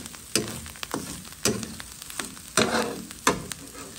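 River shrimp (chevaquine) fry in a pan for a Réunion rougail, a steady sizzle broken by repeated louder bursts as they are stirred and turned, close and without talk.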